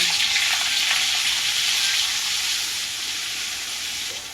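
Butter melting and sizzling in hot oil in a home kitchen pan while paneer bhurji is being made, a steady close frying hiss that eases slightly toward the end, with no talking.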